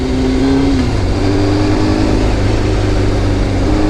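City traffic streams past a motorcycle rider, with car engines humming and revving in a continuous, loud wash and one pitch sliding downward early on.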